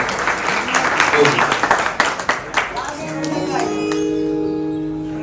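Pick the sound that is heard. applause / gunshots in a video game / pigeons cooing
applause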